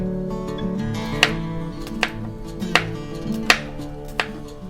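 A knife slices garlic cloves into rounds on a board for a sausage macaroni stir-fry, about five sharp, evenly spaced chops over quiet background music.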